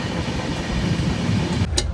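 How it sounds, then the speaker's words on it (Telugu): Inside coach C5 of the Double Decker Express 22708 running from Tirupati to Visakhapatnam, a steady rumble of the moving train carries on, with a brief sharp click near the end. "సో మొత్తం డబుల్ డెక్కర్ లోపలికి అయితే వెళ్తున్నాం"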